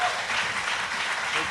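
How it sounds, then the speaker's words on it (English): Audience applause at a Dungeons & Dragons panel at Lucca Comics & Games, a steady broadband wash of clapping from a crowd throughout, without any voices over it. "please guys, a big round of applause to Alex Kammer, Jeremy Crawford, and Jon Peterson"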